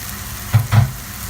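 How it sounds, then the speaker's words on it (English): Mashed eggplant with tomatoes and onion stirred in a hot pan, with a low steady sizzle and two brief, soft scraping strokes close by. "mix up the eggplant with the tomatoes and the onion"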